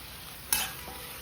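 Masala and green bean pods being stirred and sautéed in a pan for a cashew, bean and potato vegetable dish, heard as one brief sizzling scrape of the spoon against a steady low background hiss.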